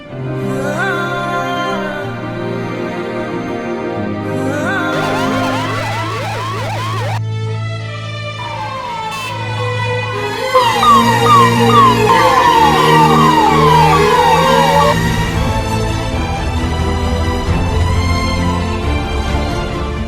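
A loud ambulance siren wails, rising and falling in repeated sweeps, over a steady droning background, during a zero-traffic road corridor in Davanagere, India.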